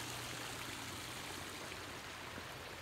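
Water runs down a garden stream toward a spillway in a desert hills landscape, a steady, even rush of flow throughout, moderately loud with no other sounds.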